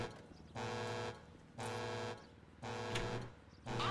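A car alarm in GTA 5 Online blares in regular on-off pulses, three loud buzzing blasts with short gaps between them, a fourth beginning at the end, near and alone.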